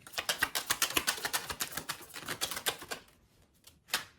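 A deck of tarot cards is shuffled quietly nearby, a quick run of crisp, fluttering snaps that thins out into a pause before one last short burst.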